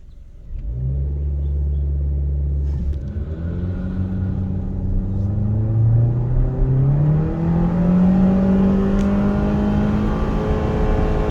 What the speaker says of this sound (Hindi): Right foot on the throttle, गाड़ी को लॉन्च करें तो गाड़ी एक ज़बरदस्त आपको व्हील स्पिन हल्का फुल्का देगी।